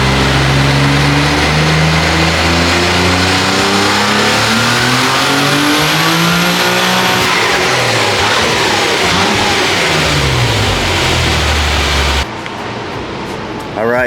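A Nissan 300ZX with a twin-turbo VG30DETT engine on GT525 turbos revs hard through a boost pull, a loud, close engine climbing steadily in pitch across gear changes before cutting off near the end.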